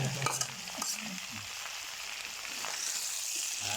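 Garlic and snow peas stir-fry in a hot pan for a pork dish, a continuous close sizzle with light stirring clicks and scrapes throughout and no speech.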